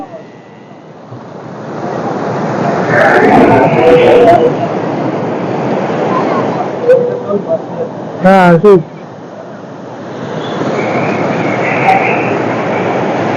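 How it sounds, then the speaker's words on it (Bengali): Sea waves surge and break on a beach at Puri, a steady roaring wash of surf under wind, with people talking nearby and a brief bird-like chirp partway through. "যে ঢেউ চলে এলো এখন"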